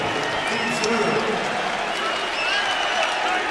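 Purple-clad home crowd at an NIT college basketball game applauding and cheering a defensive effort, a steady broad wash of clapping and crowd noise throughout, with a commentator talking over it.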